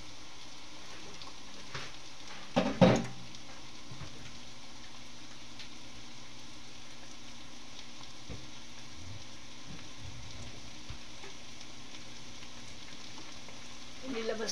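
Dried shrimp (hebe) frying in a pan, giving a faint, steady sizzle throughout, with one brief louder clatter of stirring near the start and occasional soft knocks.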